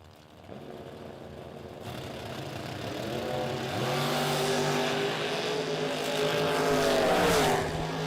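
Drag race cars, a 1965 Chevy II and a 1981 Camaro, launch down the strip, engines rising from idle into a loud, building roar of high revs that holds and climbs over several seconds.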